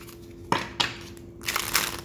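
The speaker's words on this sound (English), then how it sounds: "I'll get a good shuffle" A deck of tarot cards gets a shuffle on a table, a few sharp riffling bursts and crisp card flutters close to the microphone, with no talking.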